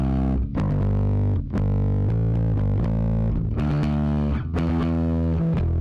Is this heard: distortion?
yes